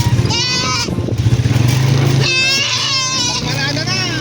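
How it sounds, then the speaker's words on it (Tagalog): A newly arrived Anglo-Nubian cross goat kid bleats repeatedly on a farm, several loud wavering cries close by, with a person talking over and between them. "oh, may bago tayo kambing."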